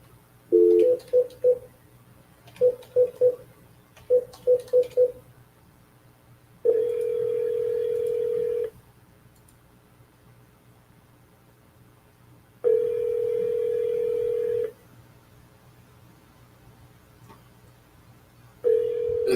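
Automated voicemail phone line with DTMF keypad tones: three quick bursts of rapid beeps, then long steady tones at intervals, clear and alone with no talking.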